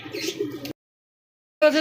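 A pair of Pouter pigeons, soft low cooing in two short bursts separated by a brief silence, close and clear.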